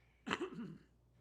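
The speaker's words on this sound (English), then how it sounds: "Cough, cough." One soft, close cough, a quick throaty burst that trails off into quiet.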